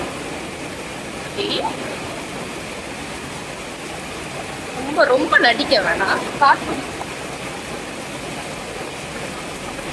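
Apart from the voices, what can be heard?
rain falling outdoors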